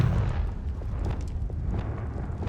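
A Confringo fire spell bursts in Hogwarts Legacy, heard as a sustained loud rumbling boom with crackling debris that holds steady at close range throughout.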